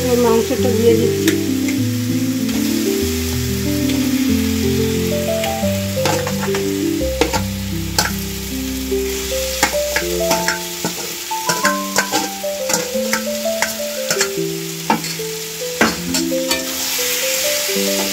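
Meat sizzles in a pan with capsicum, tomato paste and fried onions while it is stirred, giving a constant frying hiss punctuated by scraping clicks, all under background music.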